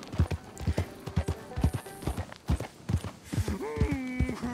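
Horse hooves clip-clop in an even, close rhythm in Red Dead Redemption 2, with a brief whinny and some game voices mixed in.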